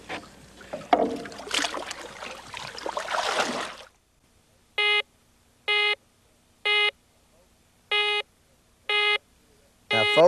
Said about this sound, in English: next time you hear that sound when you're out working with your metal detector